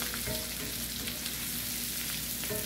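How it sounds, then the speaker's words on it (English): Vegetables fry in a pan while being stirred for a baked potato meal, giving a steady close sizzle with a few soft scraping stirs throughout. "I'm gonna stir it around a little more."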